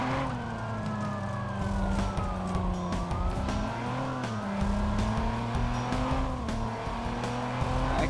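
A car drives in the Watch Dogs video game, with a revving engine whose pitch swoops up and down between gear changes, tyres squealing now and then, loud and continuous with no talk over it.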